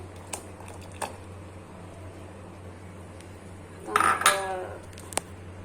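Egg goes into a pot of packaged Thai soup cooking at home, with light clinks of a utensil against the pot, then a short burst of scraping and stirring, all fairly quiet.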